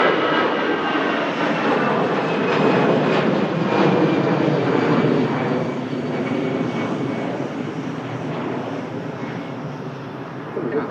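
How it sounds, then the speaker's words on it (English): An EasyJet Airbus A320 jet takes off, a loud, steady broadband engine roar that holds for about ten seconds with no break, fairly close to the listener. "EasyJet A320 heading out to Lisbon"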